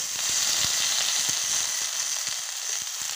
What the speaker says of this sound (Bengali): ওই তেলের মধ্যে আলুগুলি দিয়ে দেব। আলুগুলি দিয়ে দিচ্ছি